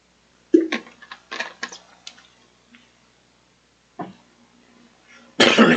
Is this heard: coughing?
yes